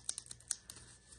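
Scissors cut open the packaging of a Honor X8b phone box, giving a few quick, sharp, close snips in an irregular rhythm against a quiet room.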